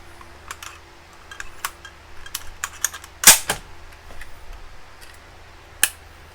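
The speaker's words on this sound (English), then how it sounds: "Cycle the action." The action of a Chinese SKS rifle is worked by hand, with a series of close metallic clicks and rattles leading to a loud sharp clack near the middle and another crisp snap near the end.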